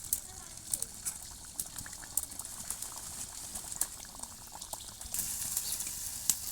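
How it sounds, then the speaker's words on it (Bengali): Shrimp kachori dropped one by one into hot oil sizzle and bubble with a steady, crackling fry and sharp pops, louder toward the end, with no talk over it. "তেলটা গরম হয়ে গেছে। এবার আমি কচুরিগুলো এক এক করে ছেড়ে দেবো।"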